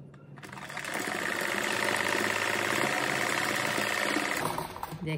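A sewing machine runs steadily, stitching a fabric seam for a homemade cat-shaped door stopper; the motor's fast, even whir builds after a brief start, holds loud and close for several seconds, then slows and stops.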